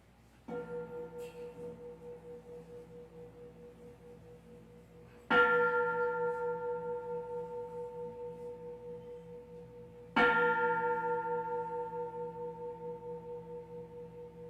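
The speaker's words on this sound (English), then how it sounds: "I'll ring the gong to start our ceremony" A ceremonial gong opening a university commencement, struck three times at slow, even intervals, each loud stroke ringing with a long shimmering sustain that decays gradually, with no talk over it.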